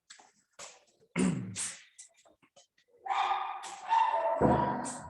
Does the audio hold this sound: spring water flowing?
no